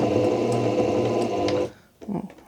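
A sewing machine stitches an elastic seam on a hat in a close, steady mechanical whir that stops after about a second and a half, followed by faint handling sounds.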